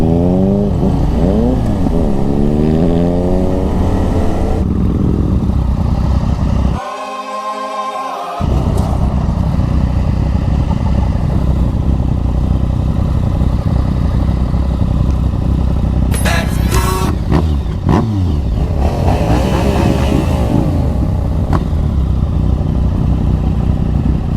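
Motorcycles riding on a road, heard from a moving rider: a loud continuous engine roar with wind noise and a brief engine rev or passing vehicle swell partway through.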